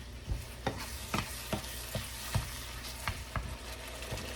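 Taco meat seasoned with ranch cooks in a pan for a Tex-Mex taco bake: a steady sizzle with repeated scraping stirs, about ten spaced strokes, close and moderately loud, with no talking.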